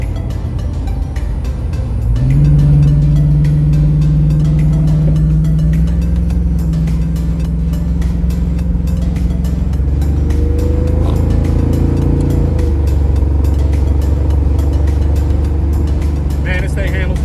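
A car accelerates hard around a corner, its engine revving loud and close, climbing in pitch, then dropping through a gear change and pulling again, with a voice talking over it.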